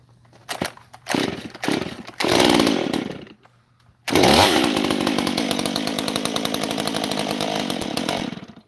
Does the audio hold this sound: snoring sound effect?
no